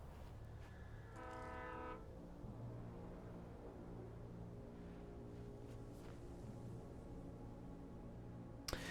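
A train rumbles steadily through the whole stretch inside the video game Alan Wake, and a horn blares briefly near the start, all somewhat distant and muffled.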